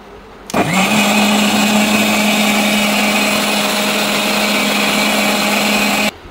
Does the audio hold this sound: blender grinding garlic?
yes